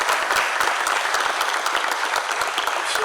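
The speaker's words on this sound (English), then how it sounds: "how about another big round of applause for this team?" An audience at an urban search and rescue task force event gives the rescue team a round of applause, dense steady clapping from many hands that fills the whole stretch.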